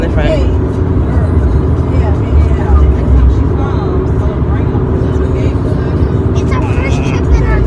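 Steady rumble of a new car's cabin on a road trip, continuous road and engine noise at an even level, with passengers talking over it throughout.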